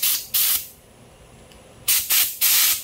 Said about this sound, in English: And then we'll just blow it out with compressed air.